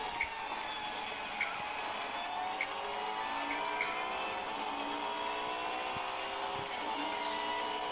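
Racing car engine in a video game, a thin, faint whine rising in repeated gear sweeps, with small clicks scattered through it and no talk over it.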